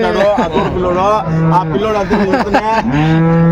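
Jersey and Jersey-HF cross calves mooing close by at a cattle market, with several drawn-out calls overlapping loud human voices throughout.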